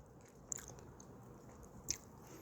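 Two quiet, crisp crunches of a bite into firm fruit, close up, over a faint background hiss.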